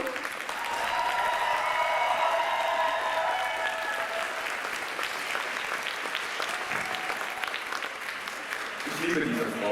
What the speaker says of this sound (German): Einen großen Applaus für Kio.